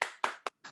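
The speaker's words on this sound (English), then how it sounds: "Clap for yourself." A child claps four times in a classroom, sharp close slaps with brief gaps, the last one softer.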